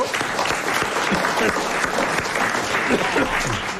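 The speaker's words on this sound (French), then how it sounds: "on applaudit, car c'est vraiment une très bonne question" Studio audience at a 1997 French television game show applauding steadily and loudly throughout, a dense continuous clatter of many hands with faint voices mixed in.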